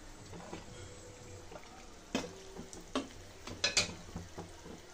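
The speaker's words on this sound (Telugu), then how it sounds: "చూడండి ఇవి కూడా డీప్ ఫ్రై అయిపోయినాయి." Badam puri deep frying in hot oil, a steady low sizzle and bubbling broken by a few sharp clinks and splashes as the pieces are stirred and lifted, close by with no talk.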